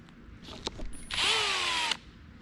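A power drill mixing whirs up to a high steady whine for about a second, then cuts off, after a few short clicks and knocks.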